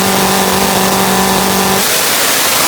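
A 2,000-horsepower top fuel nitro drag bike engine at launch, a loud, sustained, harsh roar with a steady droning pitch that cuts off into broadband noise near the end.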